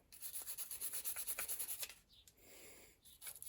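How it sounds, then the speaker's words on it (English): Rusty part from a vintage Hercules Commuter 3-speed bicycle being scrubbed with a brush, a fast, steady rasping rub for about two seconds, then quieter, lighter scrubbing strokes. "Give it a quick scrub,"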